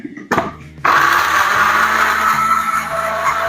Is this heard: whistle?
no